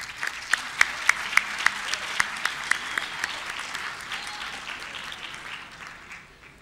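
An audience at a university forum with a presidential candidate applauds steadily for several seconds, the clapping fairly close and dense with a few sharper individual claps near the start, then gradually fading.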